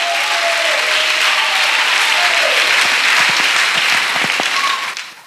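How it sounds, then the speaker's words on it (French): A church congregation at a French-language retreat for unmarried people claps in sustained, dense applause that fades out at the end, with scattered acclaiming voices mixed in. "Acclamation à Jésus-Christ."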